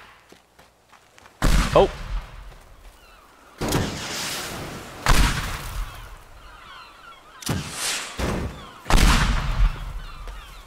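Rocket launcher shots and the explosions that bring down a power line in the destruction game Teardown, several loud booming blasts with crackling debris spaced a few seconds apart, with a brief exclamation from a voice.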